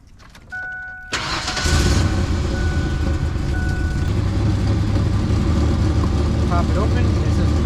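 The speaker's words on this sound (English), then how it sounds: "So first up we're going to start the truck." A Ford Ranger pickup cranks and fires up about a second in, then settles into a steady, fairly loud idle that continues to the end, with a faint beeping tone before and after the start.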